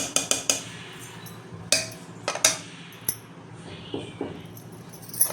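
A metal lid clinks down over a pot of fermenting appam batter in a home kitchen, a few sharp close clatters of cookware at the start and middle, then quieter scattered knocks.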